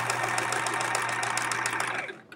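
A sewing machine runs fast and steady, stitching quilt fabric with longer stitches for a chevron scrap quilt, a continuous close whirring hum that stops abruptly at the end.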